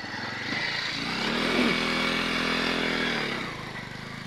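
A motorcycle engine strains under load, its droning, harmonic-rich note swelling and holding steady at close range before easing off near the end, with no talk over it.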